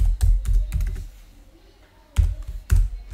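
Bursts of typing on a computer keyboard, clustered clicks near the mic at the start and again toward the end, with a quieter pause between.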